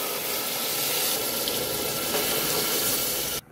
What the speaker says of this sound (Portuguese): Agora eu vou colocar aqui a água.